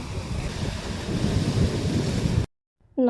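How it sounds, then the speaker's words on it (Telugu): Ocean waves wash onto a beach at night in Pondicherry, a steady rushing surf roughened by wind noise that cuts off abruptly near the end. "నైట్ ఆ బీచ్ సౌండ్స్కి సముద్రం అయితే సరిగా కనపడలేదు,"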